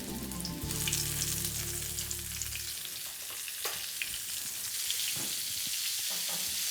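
Chopped onion sizzles steadily in hot olive oil in a pan, a bright continuous frying hiss with small crackles and stirring scrapes, close by, no talking.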